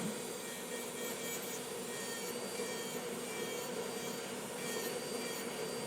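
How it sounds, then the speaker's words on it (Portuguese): Nail file rasping along the sides of a gel fingernail, a faint, steady scratchy friction that keeps going with little change in rhythm and no voice over it. "E vamos lixando para deixar as paredes laterais dessa unha bem paralela"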